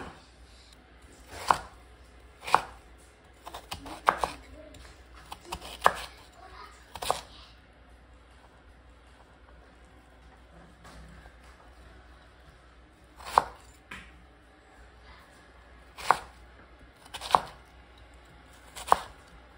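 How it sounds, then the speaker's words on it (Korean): A knife chops radish into cubes on a cutting board in sparse, sharp thuds, single strokes and short bursts separated by quiet pauses, close and fairly soft, without speech. "무는 아무렇게나 썰어 주셔도 돼요. 저는 사각으로 썰어서 준비할게요."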